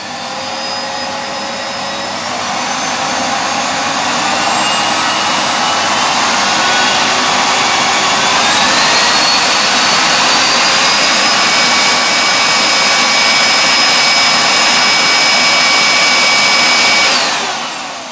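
A Miele S5 vacuum cleaner running loud and close, a steady whining roar whose pitch climbs as the motor spins up and then holds, before it winds down at the end.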